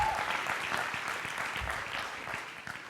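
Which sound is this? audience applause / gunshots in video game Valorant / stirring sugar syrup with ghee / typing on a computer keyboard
audience applause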